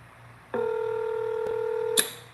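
A phone dialing a call gives one sustained electronic tone lasting about a second and a half, clear and close, ending in a brief click.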